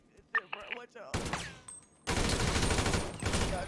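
Rapid bursts of video game gunfire erupt loud and dense after a quieter stretch of voice, sustained for a couple of seconds with a slight dip then resuming.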